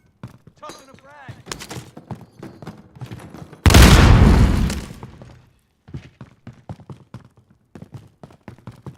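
A frag grenade explodes in a video game as one loud, noisy burst lasting over a second, then tails off, with game sounds and chatter before and sparse clicks and taps after.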